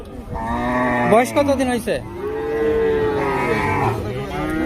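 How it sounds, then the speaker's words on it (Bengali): A bull at a rural cattle market in Sakhipur, Tangail lets out long, loud, close moos, one drawn-out call after another, while a person briefly speaks nearby. "এখানে একটা ষাঁড় গরু রয়েছে"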